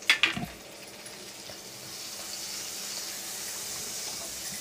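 Butter melting in a hot pan for pav bhaji starts to sizzle after a few short clinks, the hiss swelling into a steady, close frying crackle.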